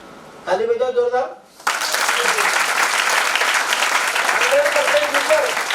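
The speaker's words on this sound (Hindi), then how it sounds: "ताली बजाओ जोरदार।" Loud, dense applause fills a business meeting hall just after a short spoken phrase, holding strong and even for several seconds, with faint voices under it near the end.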